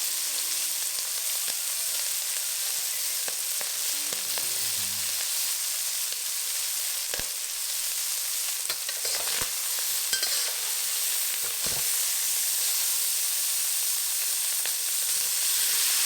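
Pork belly pieces frying in a pan, a dense, continuous hissing sizzle held close for a long stretch, with scattered faint pops and a few light knocks of a utensil against the pan.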